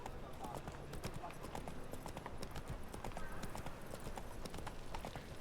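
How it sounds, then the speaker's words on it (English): Hooves clip-clop at a steady galloping rhythm as a horse is ridden in The Witcher 3, close and continuous beneath background game music, with a voice speaking over the hoofbeats. "I have a horse. Downright royal horse."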